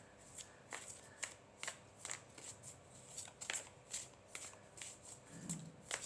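A deck of tarot cards being shuffled by hand, a steady run of soft riffles and slaps repeating roughly every half second, close but quiet, with no voices.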